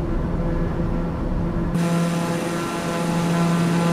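Aircraft engine drone in Microsoft Flight Simulator 2020, flying over Northern Canada, holding a loud, steady tone before abruptly shifting to a lower, deeper hum as the throttle is reduced.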